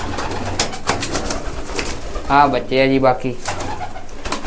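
A dabba pigeon gives one clear, throaty coo in the middle, close by, while a voice talks and calls around it.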